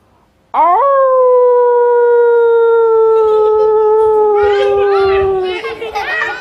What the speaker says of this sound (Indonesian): Ada serigala mengaum di padang pasir di tengah-tengah kerajaan Mesir.